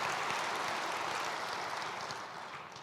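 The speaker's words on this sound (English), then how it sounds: "Let's give them another round of applause for all their hard work and dedication to our community" An audience applauding at the 67th annual Groundhog Breakfast, a dense, even wash of clapping that stays faint and slowly fades over a few seconds.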